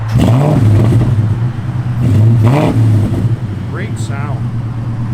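A 2003 Ford Mustang SVT Cobra engine revved up while parked, with two strong throttle blips rising and falling over a rumbling idle, close and loud, followed by a short voice.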